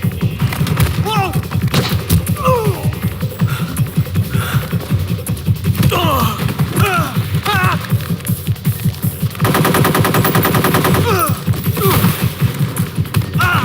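Rapid automatic gunfire in a video game, loud sustained bursts with thumps and a denser stretch of fire, with excited shouting voices over it.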